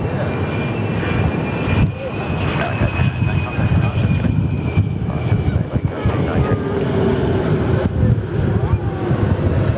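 A QantasLink Fokker 100 jet airliner sits on runway 03 at Perth Airport, its engines producing a loud, steady, broadband roar with a faint whine that holds throughout.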